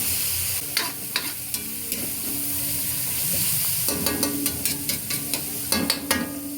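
Kimchi sizzling as it is stir-fried in a pan, a steady bright frying hiss with repeated scraping and clacking of a utensil stirring, close and clear with no talk.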